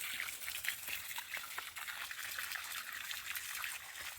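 Water gushes steadily while plants are watered on open farmland, a close, continuous splashing flow with no pauses.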